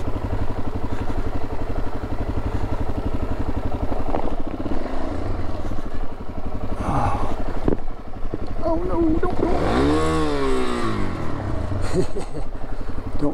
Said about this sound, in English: That was a fistful of throttle in neutral.